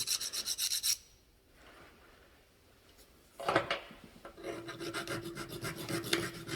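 A milled metal workpiece being hand filed: a rapid series of rasping strokes at first, then a pause, then renewed scraping strokes building to a steady rhythmic rasp, close up and without speech.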